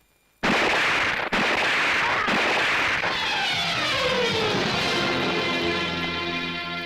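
A pistol loaded with fake blank rounds fires several loud, sharp bangs about a second apart. A thick, sustained roar of dramatic background sound follows and fills the rest.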